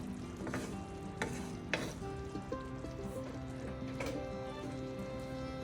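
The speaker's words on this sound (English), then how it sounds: "On low heat, add the shrimp back. Mix that well." Shrimp being mixed into creamy Alfredo sauce over low heat, a steady soft sizzle with occasional utensil scrapes and clinks against the pan, close and fairly quiet.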